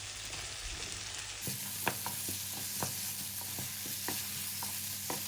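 Octopus frying in a pan with spices, a steady dense sizzle with occasional stirring clinks and scrapes spaced through it, close and continuous, no voices.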